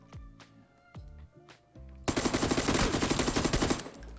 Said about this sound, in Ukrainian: звук такий в К2, наче це якийсь кулемет насправді